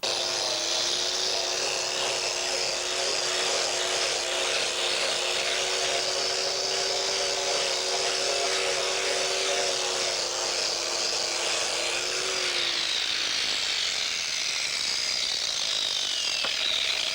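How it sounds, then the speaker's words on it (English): A small tanned furskin is sanded with a powered tool, giving a continuous buzzing rasp for about twelve seconds before the tone drops away and a softer scraping hiss continues. "As you can see, I'm just sanding off the skin."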